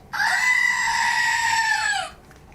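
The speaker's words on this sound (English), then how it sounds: "These are our mascots. They are screaming goats." A screaming goat sound effect, a single loud, shrill, sustained human-like scream about two seconds long that rises, holds and tails off, with no speech.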